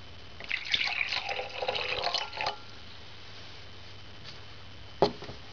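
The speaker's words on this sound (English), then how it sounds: "Pour 1 inch of water in a glass." Water pours briefly into a glass for about two seconds, a soft trickling splash, followed by a quiet pause and a single faint clink.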